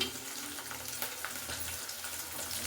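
Sliced onions frying in a pan of hot oil, a steady broadband sizzle with faint crackle running the whole time, close and fairly even in level.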